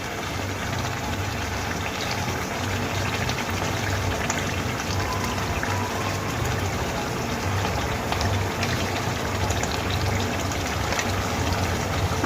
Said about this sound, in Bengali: আমি এর মধ্যে দিয়ে দিচ্ছি ফ্যাটানো টক দই।